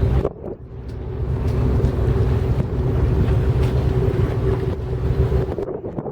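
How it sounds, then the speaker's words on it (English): Twin boat engines run in forward gear on the water at Georgetown, South Carolina, a loud continuous rumbling drone heavily mixed with gusting wind buffeting the microphone, with no talk over it. "We were in idle and forward gear with both engines."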